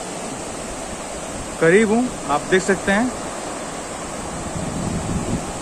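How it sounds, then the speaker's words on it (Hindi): Teesta river in North Bengal flowing steadily, a broad constant wash of water noise running through the whole stretch, with someone talking briefly over it midway. "this is तोस्ता river"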